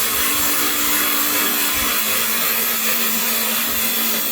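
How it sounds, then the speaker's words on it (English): A cordless drill runs under load in a steady, loud, continuous whine and grind, unbroken and without talk. "let's get our drill here"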